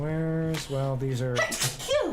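A single sharp sneeze bursts out near the end, following a few spoken words from a person working on a PC build indoors, close and fairly quiet overall.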